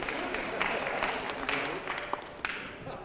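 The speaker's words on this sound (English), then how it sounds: "all the clapping for the high voices came from this side" Applause from a choir rehearsal, a light scattered clapping from part of the room, fairly faint and mixed with murmuring voices.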